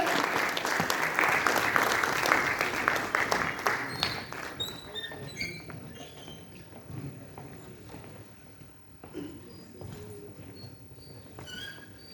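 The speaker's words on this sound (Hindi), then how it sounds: "A huge round of applause for our speaker." An audience at a professional meeting in Lucknow applauds a speaker, dense clapping for about four seconds that thins into scattered claps, shuffling and faint murmur.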